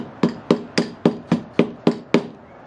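Hammer strikes inside a shed, eight sharp, evenly spaced blows about a quarter second apart, loud and close, with no voices.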